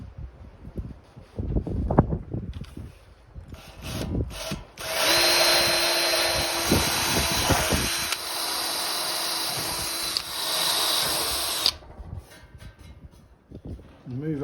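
Power drill boring holes in a Land Rover rear crossmember during restoration, a loud close whine held for about seven seconds, preceded by clanks and handling knocks, with a voice speaking between the bursts.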